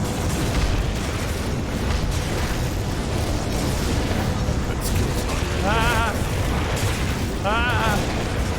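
In the action game Grim Dawn, mortars and Molotov cocktails rain down in a dense barrage of booms and fiery bursts, with a voice faintly audible underneath.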